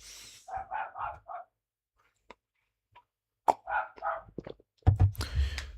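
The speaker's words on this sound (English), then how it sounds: "Dogs barking outside." Dogs bark outdoors in two short clusters of quick, muffled barks at moderate distance, separated by a quiet gap with faint clicks, with a louder burst of noise at the end.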